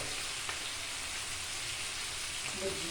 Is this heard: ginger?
yes